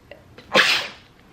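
A single sharp, close human sneeze after a short breathy intake, loud and alone, from someone sneezing all day.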